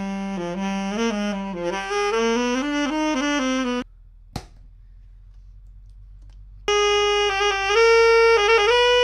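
Saxophone playing a melodic phrase recorded through a spinning fan, giving a fluttering, wobbling tone; a pause with a sharp click follows, then the saxophone returns louder, close and alone.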